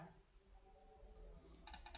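A computer mouse gives a quick run of sharp, faint clicks near the end, after a quiet stretch of low room hum with no voices.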